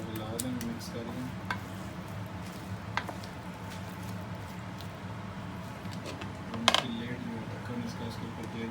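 Onions stirred and mixed in a frying pan for eggplant potato curry, with soft scraping and clinking of a utensil against the pan over a low steady sizzle, a sharper clatter near the end.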